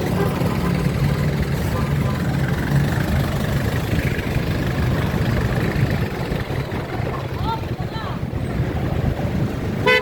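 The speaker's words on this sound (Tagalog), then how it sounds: "Traffic." Steady roar of street traffic in Binondo, Manila's old Chinatown, with idling engines and a constant rumble, busy and continuous throughout.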